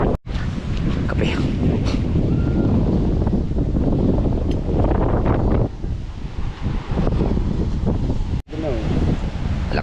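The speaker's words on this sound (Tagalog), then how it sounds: "Lakas lang ang hangin pero kaya yan." Strong wind buffets the microphone at sea aboard a small boat, a loud, steady roar with water noise beneath, while people talk over it throughout.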